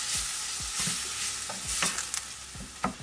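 Sloppy joe meat mixed with salt, brown sugar, yellow mustard and garlic powder is stirred in a hot pan. Rhythmic spoon scrapes and thumps recur over a constant close sizzle, with no voices.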